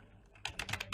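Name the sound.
typing on a computer keyboard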